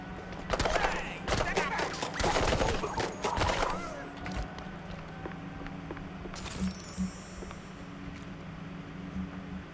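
Acid gun firing in a video game: a fast clatter of shots in the opening four seconds sits under talk, then a steady low hum remains with a few faint clicks.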